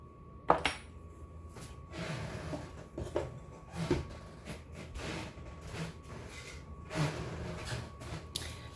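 Corn salsa seasoned with cumin, chili powder and smoked paprika is stirred in a bowl, giving quiet scraping and wet squishing with light clinks of a utensil against the side, irregular and close.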